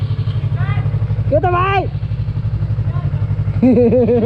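A Bullet motorcycle engine idles close by with a steady, low rhythmic thump throughout. Someone talks over it.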